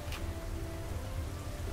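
Rain falling steadily as a sound effect during a read-aloud children's story, a soft continuous patter of drops on a surface, alone and even throughout.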